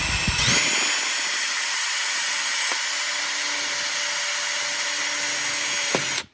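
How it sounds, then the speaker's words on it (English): A power drill whines steadily as it bores through metal to mount a patio screen door keeper, a loud continuous high-pitched drone that cuts off abruptly at the end. "I'll take my drill bit. And I like to drill in the center just in case you do need to move it up or down."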